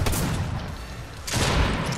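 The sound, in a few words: shotgun fire in a video game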